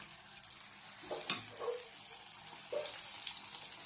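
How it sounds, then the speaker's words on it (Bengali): Luchi frying in hot oil at home, a soft bubbling sizzle with a few sharp splutters and crackles, fairly quiet and heard alone with no talk. "তো দেখো আমি লুচি ভাজা আরম্ভ করেছি"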